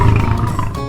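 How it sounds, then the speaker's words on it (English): A lion roars once in a short, loud burst, a deep throaty rumble heard close and alone. "That's a lion's roar."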